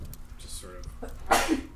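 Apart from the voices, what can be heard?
sneeze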